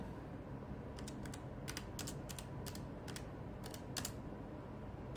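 Quiet clicks of fingers typing on a computer keyboard come in short, uneven bursts of keystrokes over faint background hiss, with no voices.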